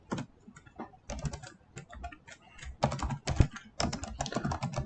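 Fast, close computer-keyboard typing while entering Python code, with irregular clusters of light key clicks and short pauses between bursts, no talking.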